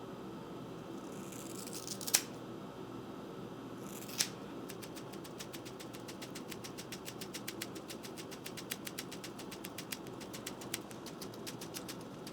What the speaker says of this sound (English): So I'm gonna take this square and cut a little bit off of here